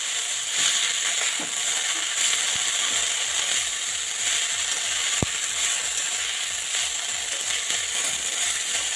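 Coriander leaves stirred constantly in a pan for a bharta: a steady soft sizzle with scraping and ratcheting clicks of the spatula, one sharp tap midway, no talking.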